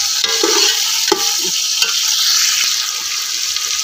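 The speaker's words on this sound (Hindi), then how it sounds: "प्याज का कलर निकलिया, टमाटर मिर्चा अच्छी तरह फ्राई कर दी" Onions, tomatoes and chilies fry loudly in a pan with a dense, constant sizzle, broken by a few clinks and scrapes of a spoon stirring close by, and nobody speaks.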